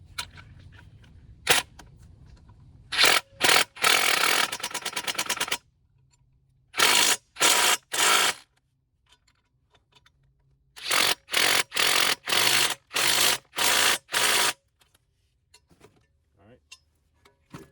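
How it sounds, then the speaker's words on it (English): Impact wrench tightening exhaust bolts on a front Magnaflow catalytic converter on a 7th-gen Nissan Maxima, loud repeated rattling bursts of hammering in short clusters separated by quiet pauses, with the nut held by a 13 mm box-end wrench. "I'm gonna use a little 13 mil box end wrench on one side, and then I'm gonna use the impact on the other"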